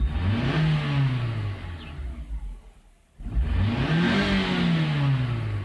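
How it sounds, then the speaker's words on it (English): A 2002 Nissan X-Trail engine revs hard at wide open throttle, twice: a loud rising then falling roar, a brief dip near silence between the runs, then a second surge and slow fall. "All I'm doing with that is I'm trying to get the ECM to operate the valve timing mechanism."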